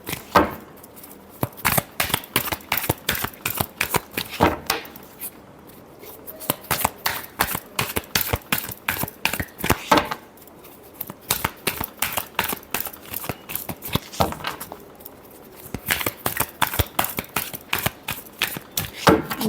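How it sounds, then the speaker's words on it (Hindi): Tarot cards being shuffled during a reading, a long run of rapid crisp riffling bursts that repeat in waves with brief pauses between, close and clear with no talk over them. "Last shuffle."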